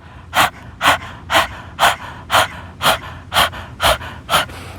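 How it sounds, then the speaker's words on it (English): Breath of fire yoga breathing: about ten rapid, even, forceful panting breaths, close and loud, evenly spaced at roughly two per second with short quiet gaps between. "Breath of fire is actually just the same thing as panting"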